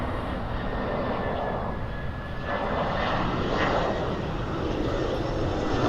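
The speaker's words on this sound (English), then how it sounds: "watch the aeroplanes as they fly almost overhead" A steady, loud roar of an EasyJet passenger jet passing almost overhead in Ciudad Jardín, Palma, Mallorca, with broadband engine rumble filling the whole stretch.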